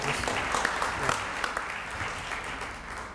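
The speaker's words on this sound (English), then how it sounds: "If you agree with that, clap your hands." Audience clapping hands at a Black honors event press conference, a steady wash of applause throughout with a few sharper individual claps standing out.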